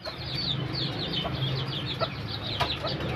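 A bantam hen with her newly hatched chicks, soft repeated clucks under a rapid run of high chick peeps, close and fairly quiet over a steady background hum.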